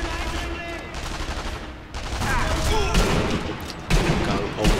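Russian soldiers fire at the player in Sniper Elite V2, with sustained, loud bursts of automatic and rifle fire that swell and drop, with a voice heard among the shots.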